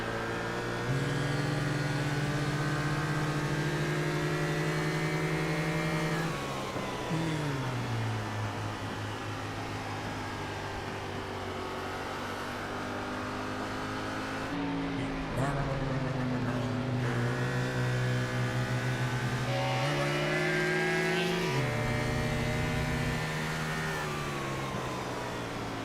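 Ford Gen 6 Cup Series race car engines drone continuously in a sim racing game at Gateway, a loud sustained buzzing whine broken by repeated pitch drops and climbs through gear changes, with no talk over it.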